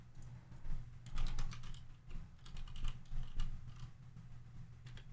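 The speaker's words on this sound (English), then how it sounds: "what am I typing in my notepad?" Rapid clicking keystrokes on a computer keyboard, typing into a notepad while playing the DOS game Tex Murphy: Mean Streets, come in uneven bursts over a steady low hum, fairly close, with no talking.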